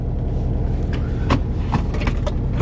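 An unreliable, shaky-running car engine rumbles loud and close in a steady low drone with a few faint clicks and knocks on top.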